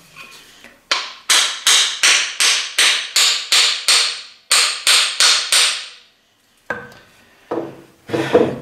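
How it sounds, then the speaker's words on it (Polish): A second hammer strikes a hammer's wooden handle to seat the head, landing about a dozen sharp, ringing blows in a steady rhythm with a short pause partway, then a few lighter taps and scraping handling sounds. "musimy jeszcze dobić trzonek młotkiem, drugim młotkiem w tym kierunku"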